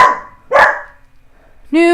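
Two sharp barks from a dog roaming indoors, close by, then a short pause and a higher, drawn-out yelp or whine.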